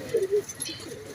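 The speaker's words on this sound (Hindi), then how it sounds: "गर्मियों में कबूतर अपने केज से ब्रीडिंग सेटअप से बाहर आ रहे हैं और पानी पी रहे हैं।" Pigeons emerge from a breeding cage setup to drink water in summer, and two soft, close coos sound early on before quieter background rustle.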